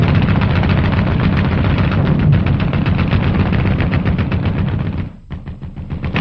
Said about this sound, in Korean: 지척에서 벼란간 총소리가 나기 시작했다.